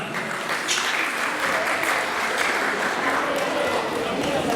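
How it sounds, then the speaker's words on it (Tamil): A hall audience at a Tamil appreciation ceremony gives dense, sustained applause throughout, many hands clapping at once in a steady, full wash of sound. "மீண்டும் ஒரு தடவை இந்த மண்டலம் நிறைந்த கரகோஷம் அவருக்கான"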